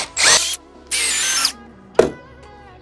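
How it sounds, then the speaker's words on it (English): A power drill whirs in three short bursts, two longer and one brief, pre-drilling holes in pallet wood with a hard bite into the wood on the last, quiet between. "You want to pre-drill these last holes so as it doesn't split the wood."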